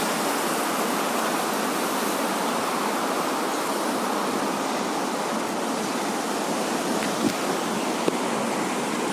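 Flood water rushes through a neighbourhood in Rajkot, Gujarat, a dense, even roar that continues without pause for the whole stretch, loud and close with no voices.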